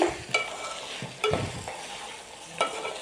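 Okra (ladies finger) fries in a pan, a soft steady sizzle broken by three sharp scraping stirs of the spatula, close but fairly quiet.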